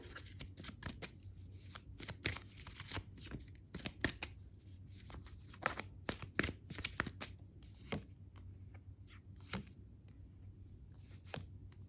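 Tarot cards shuffled and drawn by hand, a run of crisp riffling flicks and soft slaps close by, steady and fairly quiet, with no talking over them.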